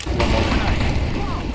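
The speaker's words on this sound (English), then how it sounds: "Throwing the flashbang" A flashbang grenade is thrown in Counter-Strike and lands as a heavy, booming blast. A loud, sustained wash of noise follows and fills the short moment, with a voice faintly underneath.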